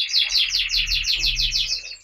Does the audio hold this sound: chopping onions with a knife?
no